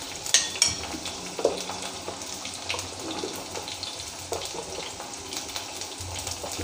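Buttermilk is stirred with turmeric powder in a bowl, producing continuous close liquid sloshing and swirling with occasional light clinks of the utensil.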